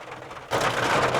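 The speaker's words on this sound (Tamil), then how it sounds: "பார்த்தா மழை அடிச்சு ஊற்றிட்டுருக்கு. அது தூரெல்லாம் பெரிய ட்ராப்ஸாக போடுதுங்க." Heavy monsoon rain in Kerala pours onto a car, heard from inside; a quieter patter suddenly swells into a loud, dense drumming roar.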